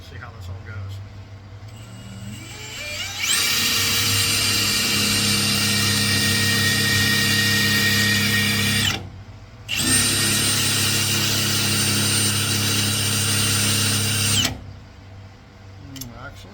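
A power drill whines loudly drilling out two broken bolts in thick steel, in two long sustained bursts separated by a short pause, with quieter workshop noise before and after.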